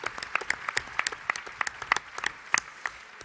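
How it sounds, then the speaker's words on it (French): Scattered applause from a modest audience, individual claps distinct and irregular, close and moderately loud, with no talking. "Je crois qu'on peut vraiment applaudir à nouveau les 5 rapporteurs pour le travail fait"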